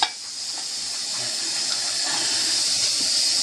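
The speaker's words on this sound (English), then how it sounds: "We're going to top her off with warm water." Warm water runs steadily from a kitchen tap into a sink, a continuous close, loud rushing spray with no pauses.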